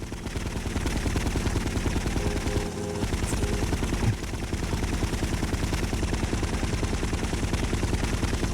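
Sustained rapid gunfire from GTA Vice City Stories on PS2 rattles on loudly and continuously, like automatic weapons in a firefight, with steady bursts running throughout and little letup.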